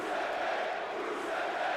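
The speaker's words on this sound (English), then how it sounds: "And this crowd is going nuts over here in Ohio right now for Rusev Day again." A game arena crowd in WWE 2K19, set in Ohio, roars and cheers steadily as one dense continuous wash of voices, loud and unbroken throughout.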